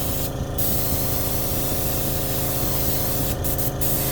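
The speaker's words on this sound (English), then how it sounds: "I just blast up my air compressor." Airbrush spraying thick, unthinned paint on a trout pattern, driven by an air compressor: a steady, loud hiss of air runs throughout, with brief bursts of stronger spray near the start and the end.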